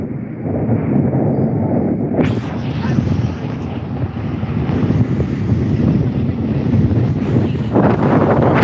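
Gusting crosswind buffets the microphone during a bike race, a loud, continuous low rumble of wind noise. A brief lull comes partway through before the blustering rushes back, with no voices.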